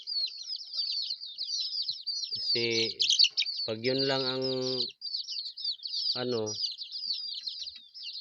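Native chickens and young chicks on a small farm peep in a constant high-pitched chorus, with someone speaking in short bursts over the chirping.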